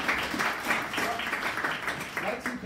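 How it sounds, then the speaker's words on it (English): Audience applause at a business investment event greets a sponsor, a continuous wash of clapping from a crowd that stays fairly loud and even across the short stretch, with some voices mixed in. "Round of applause for Marina and Weitzman."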